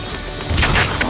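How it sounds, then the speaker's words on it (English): Heavy 120mm cannon fired from an aircraft in the EDF 5 video game, one sharp booming blast over a low rumble, loud and close, trailed by a brief crackling impact. "120mm cannon, fire."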